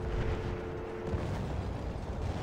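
A loud, rumbling explosion of an armored train in the World War I shooter Battlefield 1, with heavy low booms and continuous battle noise filling the whole stretch.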